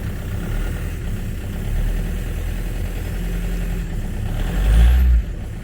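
A cold Mk4 Golf TDI diesel engine idles lumpily in the cold with a steady low rumble. It is heard up close with a brief louder surge near the end, and a radio plays faintly in the background.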